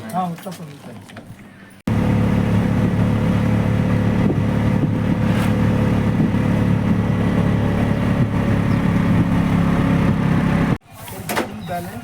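An auto rickshaw engine drones steadily and loudly during a ride, with rattling road noise throughout, starting abruptly after a short quieter opening and cutting off near the end.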